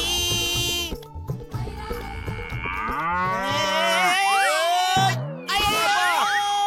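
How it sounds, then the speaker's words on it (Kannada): A cartoon buffalo lets out long, loud lowing moos that slide and swoop in pitch, with a brief gap before a final bellow. "ಯಮರಾಜನ ಎಮ್ಮೆ ನಮ್ಮನ್ನ ಕರ್ಕೊಂಡು ಹೋಗಿ ಬಂದಿದೆ ಅನ್ಕೊಂಡ್ಬಿಟ್ಟಿದ್ದೆ."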